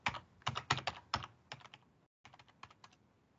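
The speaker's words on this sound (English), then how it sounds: "And we'll type in a password." A password typed on a computer keyboard: bursts of crisp, close key clicks in quick clusters, a short pause, then a lighter run of taps.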